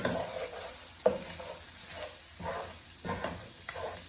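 Oregano cooking in a pan of shrimp over a medium flame, a quiet steady sizzle and hiss with repeated soft scraping stirs at a slow, regular pace, nearby and fairly faint.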